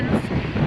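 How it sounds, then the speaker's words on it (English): Blustery wind of around 34 degrees outdoors on open land cleared for a garden, a steady low rumble buffeting the microphone throughout, close and fairly loud with no speech over it. "It is a little bit windy today."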